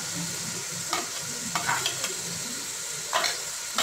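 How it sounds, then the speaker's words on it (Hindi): Chickpeas frying in a pan give a steady, close sizzle, with a few sharper scrapes and clatters from stirring scattered throughout. "तो जी ये इसको हम 2 से 3 मिनट भूनेंगे"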